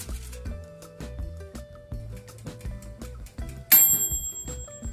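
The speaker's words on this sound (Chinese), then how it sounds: "叮咚，时间到" An oven timer dings once, bright and clear, near the end as garlic vermicelli shrimp finishes baking at 375 degrees, following a stretch of plucked background music.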